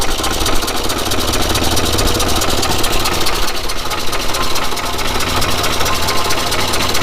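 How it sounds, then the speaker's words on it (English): A Morris Minor engine idles roughly with one cylinder misfiring, a loud close continuous mechanical chug with an uneven knocking pulse and vibration, alone without voices. "This engine's not entirely happy, but it is running."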